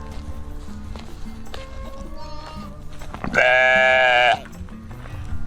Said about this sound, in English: We are considering selling our goats, so let's go look at them right now.